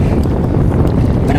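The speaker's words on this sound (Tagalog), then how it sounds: "Yan o, yung motor." Small fishing boat motor running out at sea on a handline fishing trip: a loud, continuous rumbling drone with wind buffeting the microphone throughout.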